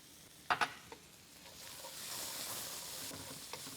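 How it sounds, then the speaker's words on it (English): Pan stirring after salt goes in, with a low, steady sizzle swelling in the middle and a couple of sharp scrapes and clicks near the start; smoke rising from a hot pan, kale to follow. "Now, you add the salt and you keep stirring."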